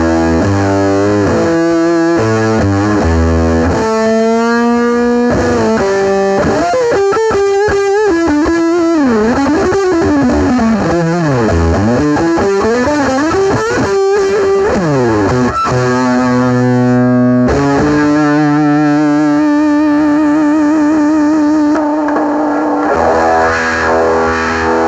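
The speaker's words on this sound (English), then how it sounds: "another one of my favorite effects on the guitar is the distortion" Heavily distorted electric guitar plays a loud, continuous line with bends and sweeping pitch slides, thick and buzzing throughout.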